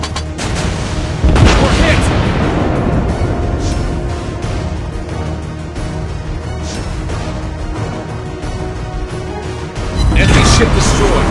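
Naval artillery in the World of Warships Blitz video game: deep booming salvos, one early and one near the end, over a continuous roar of battle noise and game sound.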